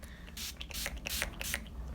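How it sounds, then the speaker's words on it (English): A rose water setting spray is misted onto a face in a few quick, faint hissing bursts in a quiet room. "we're gonna take the Mavin Beauty Rose Water Setting Spray"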